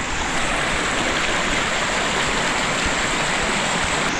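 Cold spring water at Sulat Cold Spring flows and splashes in a continuous, loud, close rush, steady from start to finish with no voices.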